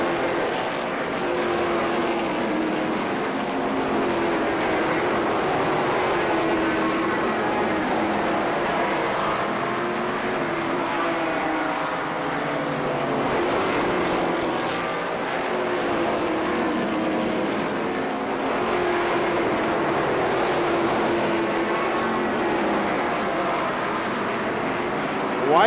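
Midget race cars roaring around the Columbus Motor Speedway oval during a NAMARS race, a loud continuous engine drone that swells slightly as cars pass.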